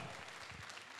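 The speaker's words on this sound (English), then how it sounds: "Let's clap for her." Audience applause fills a graduation ceremony for practical skills graduates, a dense, steady patter of many hands clapping at once, held at an even level for the whole second without a break.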